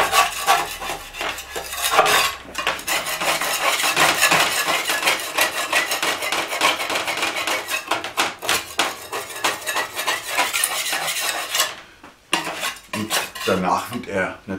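Scraping coarse dirt and loose paint off the fuel tank of a Kymco Agil scooter, a steady, busy run of close metallic scratching and clinking that carries on almost without pause for the whole stretch.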